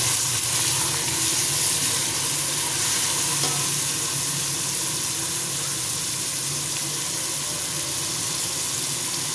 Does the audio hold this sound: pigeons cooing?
no